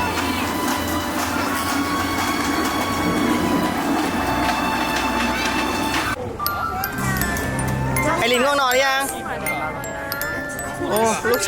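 A train ride at Hong Kong Disneyland rumbles and clatters steadily up close, with excited voices and chatter layered over the noise throughout.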